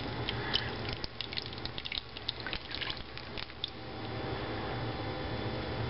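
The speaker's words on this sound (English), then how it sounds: "So, I'm going to pour it in this pan" Coffee gelatin mixture for a low-carb dessert is poured into a pan, giving a soft, uneven trickle and spatter of liquid with small clinks at first, then settling into a steady, faint flow.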